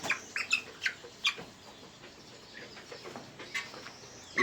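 Young six-week-old Kienyeji chicks peep and cheep in short, scattered bursts, fairly quiet and close, with no talking over them.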